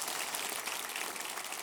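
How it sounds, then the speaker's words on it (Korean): A congregation at a Sunday church service gives a brief round of applause to welcome university faculty, an even, continuous wash of clapping from a crowd. "우리 크게 한번 박수해 주시기를 바랍니다"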